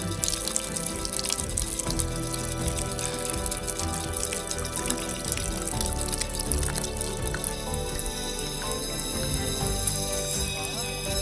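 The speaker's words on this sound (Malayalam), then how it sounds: "എൻ്റെ വെള്ളം എൻ്റെ കുപ്പിയിലേക്ക് എൻ്റെ കുപ്പിയിലേക്ക്" Forest stream water on a Banasura hill trek in Wayanad runs into a bottle, a steady close gurgle and trickle lasting throughout with no talk over it.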